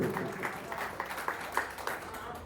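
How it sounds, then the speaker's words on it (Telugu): A stage audience claps to welcome a guest as he comes up, a faint, thin patter of hand claps with uneven bursts rather than a full roar, heard from some distance. "మీ ఘనమైన చప్పట్లతో ఆయన పైకి స్టేజ్ పెట్టుకోండి"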